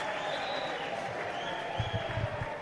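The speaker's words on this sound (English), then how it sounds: "Met by sarcastic cheers by the home crowd." Home crowd at a Leeds United youth football match greeting a free kick with sarcastic cheers and scattered clapping, a distant, diffuse stadium roar with a few claps near the end.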